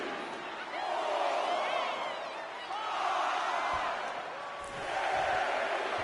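A large crowd in the video game WWE 2K25 roars continuously during a Last Man Standing wrestling match, swelling in waves of cheering and shouting that rise and fall several times, loud and dense throughout.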